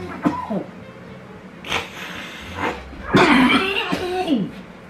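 Several harsh coughs in short bursts, a single one first and then a longer fit near the end, heard close up against a quiet background.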